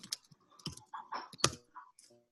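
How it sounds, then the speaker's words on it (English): Keys clatter on a computer keyboard during an online webinar, a short irregular run of close, light clicks and taps with brief pauses between them. "I'm typing it into the chat."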